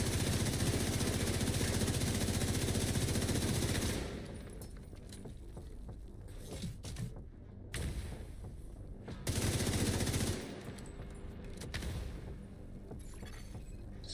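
Warframe gunfire roars in dense, sustained automatic bursts, loud and close, a continuous rattling barrage that drops to quieter scattered shots in the middle before a second heavy burst returns.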